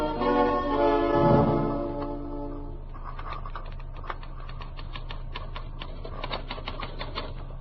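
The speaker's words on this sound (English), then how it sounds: "Take it out of the typewriter." Typewriter keys clatter in a steady run of irregular strikes after a short burst of music, with no voices over the typing.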